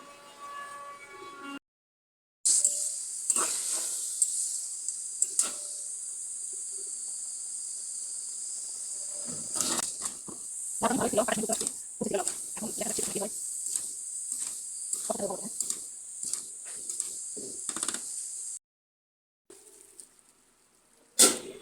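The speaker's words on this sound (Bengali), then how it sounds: "লাউটা এখানে কষাচ্ছি, পানি দেইনি, ভাবলাম আগে এমনি কষাই।" Bottle gourd stir-fried in a pan without water makes a steady, high crackling sizzle that runs most of the way through, broken by stirring scrapes and brief gaps.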